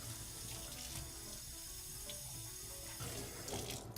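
Tap water runs steadily into a sink while dyed fabric is rinsed, a continuous close splashing hiss with small shifts in the flow and no talking.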